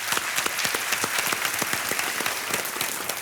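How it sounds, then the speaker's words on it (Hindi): Studio audience on a children's edition of a TV quiz show claps to welcome a guest, brisk and even applause with sharp individual claps standing out near the front. "तालियों के साथ उनका अभिनंदन"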